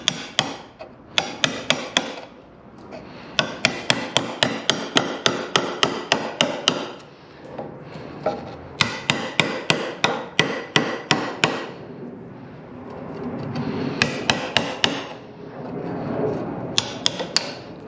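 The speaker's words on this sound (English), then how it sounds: "if you have a chisel, you can also chisel that out" Hand chiseling out wood for a rafter cut gives sharp, close strikes in quick rhythmic bursts of several hits each. Short pauses separate the bursts, and the knocking repeats over and over without any talk.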